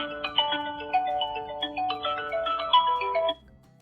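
A W68 Ultra smartwatch plays a bright melodic ringtone, a short run of clear electronic tones in a bouncing pattern that stops abruptly after about three seconds, loud and close with no other sound.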